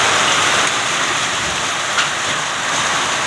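Steady, dense unseasonal rain with hail pours down across fields in a village in Parner taluka, a loud continuous hiss with a faint patter of impacts and no voices.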